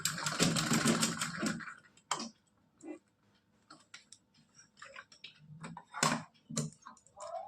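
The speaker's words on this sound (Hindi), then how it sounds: "इधर साइड भी हमको यहाँ पे डबल सिलाई लगा देनी है" A sewing machine runs a double seam on a net-fabric dress, first in a rapid rattling burst, then in short intermittent clicks and ticks with quiet gaps.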